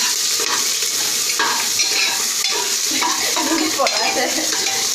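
Onions sizzle and crackle in a hot pan while being stirred for khichdi, a continuous close frying hiss with occasional scrapes of a utensil against the pan.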